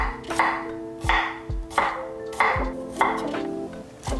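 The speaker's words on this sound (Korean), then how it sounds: "마늘도 편으로 썰어주세요." A knife slices garlic cloves on a cutting board, a handful of crisp, evenly spaced chops ringing out close by with no talking.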